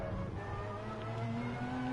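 A racing car engine in a racing video game drones and climbs steadily in revs, a continuous faint hum with rising tonal whine and no talk.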